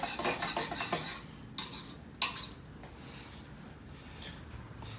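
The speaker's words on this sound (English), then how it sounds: "I'm going to mix it up a little bit more" Wood stain is stirred in a can with quick scraping, clinking strokes, close and faint, first in a busy run and then in a few scattered scrapes against a quiet background.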